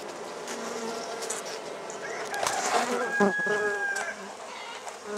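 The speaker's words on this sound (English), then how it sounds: "I'll get these bees off of this one." Dense, steady buzzing of many honey bees swarming close by around a hive frame during honey harvesting, with a low voice murmuring faintly underneath.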